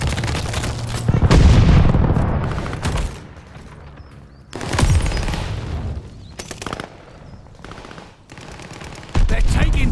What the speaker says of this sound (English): They're strafing your area!